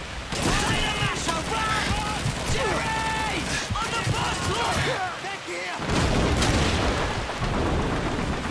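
Grenade explosions and gunfire boom repeatedly in a Call of Duty 2 British campaign battle, dense and loud with rumbling blasts and crackling shots throughout.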